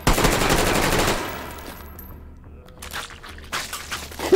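Rapid automatic gunfire in the VR shooter H3VR, a dense, loud burst for about a second that cuts off into quiet room tone, with a few faint clicks and rustles afterward.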